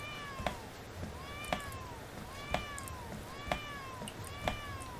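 Five repeated cat meows from a video game, at roughly one-second intervals, each short and evenly spaced, over a steady background hum.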